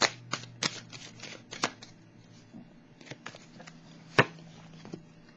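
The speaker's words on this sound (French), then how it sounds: "Je vais piger une carte sur la tromperie et envie." Tarot cards being shuffled and drawn, giving crisp papery slaps and riffles in an irregular cluster, then sparser single snaps of cards laid down, close and fairly quiet with no talking.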